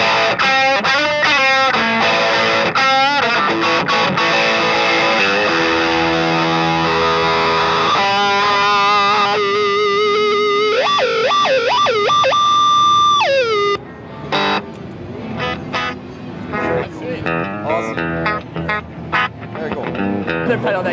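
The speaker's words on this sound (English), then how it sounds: "an internal feedback looper that creates wild sounds" A guitar effect pedal with an internal feedback looper throws out wild, swooping distorted tones and pitch-bending squeals, loud and busy at first, then thinning into sparse sputtering bursts.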